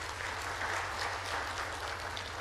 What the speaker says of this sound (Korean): 우리 박수로 한번 하나님께 영광을 드리겠습니다.